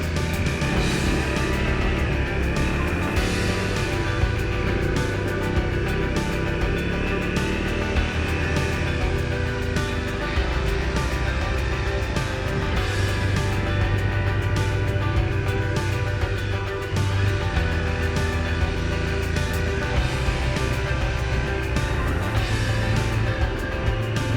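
A Honda CRF250L dirt bike crawling slowly uphill off-road in first gear, its engine droning steadily and loudly at close range for the whole stretch, with no talk over it.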